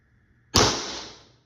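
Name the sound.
Umarex T4e HDX airgun shot, modified, 90 gram CO2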